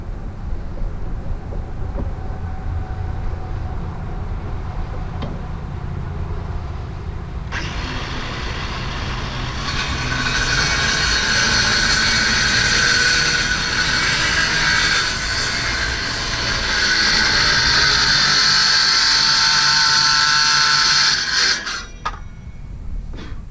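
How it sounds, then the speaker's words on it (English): A power saw slices off the end of a decking board during a kayak mothership handrail build, a loud, steady whine lasting about fifteen seconds over background hum, then cutting out abruptly. "So now we're just gonna chop that off real quick."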